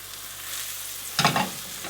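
Mushrooms fry in butter in a pan with a soft steady sizzle, and a louder burst of crackling and stirring comes near the end, with no one speaking.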